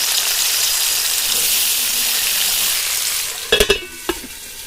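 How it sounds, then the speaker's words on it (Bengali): Potatoes frying in white oil in a wok, a loud steady sizzling hiss, followed near the end by a few sharp clinks and scrapes of stirring against the pan. "এবার আলুগুলোকে ভেজে নেবো।"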